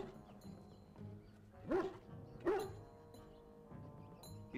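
Two sharp dog barks about a second apart ring out over steady background music and ambience in the fantasy role-playing video game Dragon Age: Origins.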